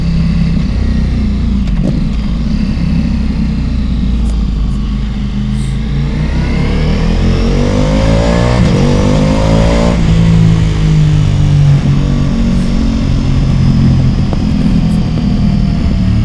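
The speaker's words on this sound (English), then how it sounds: "now I did it a little gargle acceleration there" A Ducati Multistrada Pikes Peak motorcycle with a Stage 1 upgrade accelerates through the gears, its loud, close engine rising in pitch across several shifts with a throaty burble, no voice over it.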